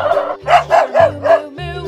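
A dog gives a series of about five close, loud barks in a quick rhythm, followed by a short whining tail at the end.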